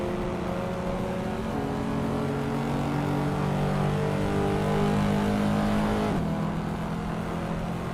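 Several race car engines in a racing video game droning and revving together at the start of a race at the Deutschlandring, one of them a 1985 Mazda RX-7 Turbo, loud and continuous with shifting pitches and no voices.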